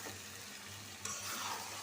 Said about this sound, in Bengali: এই যে মাংসটা ভাজা রাখছিলাম দিয়ে দিলাম